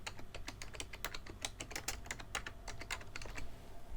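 Typing on a computer keyboard while entering a text prompt in Illustrator, with a quick, irregular run of crisp key clicks close by and fairly quiet, with no talking.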